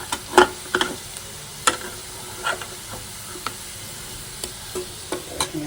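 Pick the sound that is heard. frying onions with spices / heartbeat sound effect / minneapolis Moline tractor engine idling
frying onions with spices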